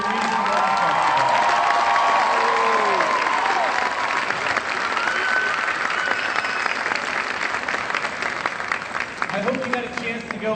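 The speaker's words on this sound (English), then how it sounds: "We're going to give them another round of applause" Crowd at a school district arts festival claps steadily with whoops and cheers rising over it, voices shouting and chattering within the noise, the applause holding loud throughout and a burst of cheering near the end.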